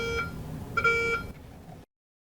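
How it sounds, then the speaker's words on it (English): Repeated electronic beeps from an ORLocate surgical sponge locator wand detecting sponges or towels in an operating room, two clear tonal bursts close up, then fading to quiet. "When a sponge or towel is located, an audible beep will sound from the locator wand."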